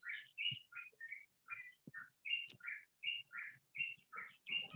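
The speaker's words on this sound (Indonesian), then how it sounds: "burungnya berisik ya guys" Several small birds chirp and tweet outside in quick, repeated bursts of bright notes, fairly near but quiet overall, with no talking.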